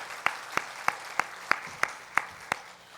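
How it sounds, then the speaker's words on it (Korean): Inside a church service, the congregation claps to bless a departing church worker: eight evenly spaced, crisp claps in a steady beat, moderately distant, with no talking. "인사하시면 박수로 축복하겠습니다"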